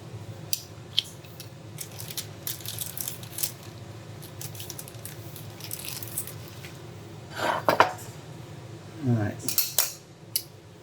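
Metal tongs clink and scrape against a pan while hot tortillas are lifted, a run of light metallic clatter with two louder bursts near the end, no talk.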